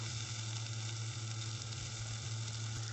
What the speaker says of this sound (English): You light fry again to remove the fishy smell, and also to keep the flesh little bit firm